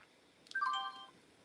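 A trading software alert chimes as a 10-share order fills at $3.92, giving a short, close burst of bright electronic tones lasting under a second, alone in a quiet room.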